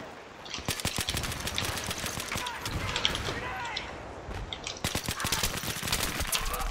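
A QBB-95 light machine gun with an ACOG sight fires in single shots in the video game Battlefield 3, sharp close reports in uneven bursts amid ongoing battle noise, with someone talking over the shooting.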